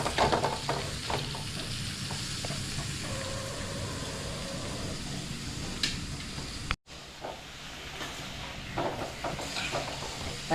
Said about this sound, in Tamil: எண்ணெயிலேயே நல்லா ஒரு 5 நிமிஷம் நல்லா வதக்கலாம்.